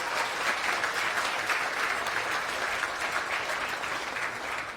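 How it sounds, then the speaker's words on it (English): Sustained applause from a crowd, steady and fairly loud throughout, with no voices standing out. "Let's give them a round of applause."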